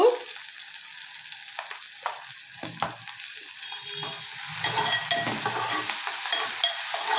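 Sliced onions sizzle steadily in a hot pan with salt while a spoon stirs them for a brinjal chutney, a continuous close hiss with occasional scraping clicks that grows slightly louder toward the end.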